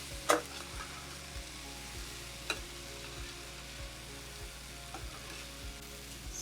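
Cheesesteak filling for egg rolls sizzles quietly in a pan with a steady crackle, broken by a few sharp scrapes and clinks as it gets stirred, and no voices.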